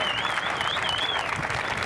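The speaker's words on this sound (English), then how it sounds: "that was a big cheer for Colin Morikawa, the defending champion" Golf spectators at a tournament cheer and applaud for Colin Morikawa, the defending champion, a dense sustained crowd roar at moderate distance, with a high whistle rising and falling above it.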